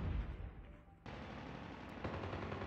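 Rapid bursts of automatic gunfire in the Call of Duty Mobile video game, close and punchy, with a short pause before a dense second volley.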